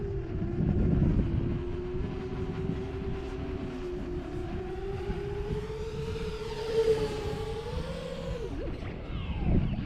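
An FR10 given a full-throttle burst lets out a steady whine that climbs in pitch and holds, then drops away, with a continuous rushing noise underneath.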